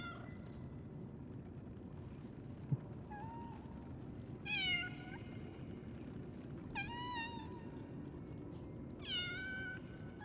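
A cat meows in the game Lies of P, several separate rising-and-falling calls spaced a few seconds apart, clear over a steady low in-game ambient hum.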